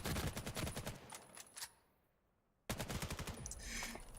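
Headshot gunfire in the VR shooter VAIL: rapid, close volleys of sharp shots cut off into a second of near silence, then another fast burst resumes with game ambience.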